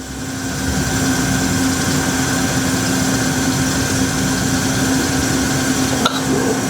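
A 2018 Hyd-Mech H-14A automatic horizontal bandsaw cuts with its band running at about 250 feet per minute, making a loud, steady mechanical drone with a constant tonal hum and a brief clank near the end.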